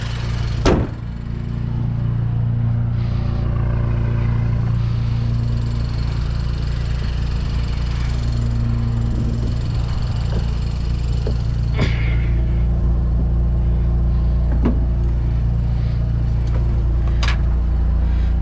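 A Pontiac Solstice's engine runs steadily and close by, a continuous low rumble with a brief thump near the start and a few faint clicks scattered through.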